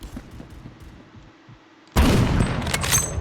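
A BFG50 sniper rifle in a video game fires, a sudden loud blast cutting in after a quiet stretch of faint background noise and leaving a dense, rumbling tail.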